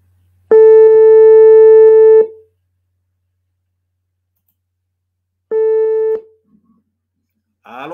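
A telephone line tone sounds while a call is placed back, with one long loud steady beep, a pause, then a second shorter beep, followed by silence.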